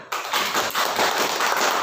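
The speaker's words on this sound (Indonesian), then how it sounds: "Tepuk tangan." A classroom of students claps together in rapid, dense bursts, forming a loud, close crackle of hands that lasts under two seconds.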